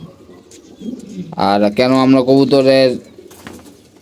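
Pigeons that have stopped eating, apparently from a kidney ailment, give soft cooing calls close by, mixed in with a person talking.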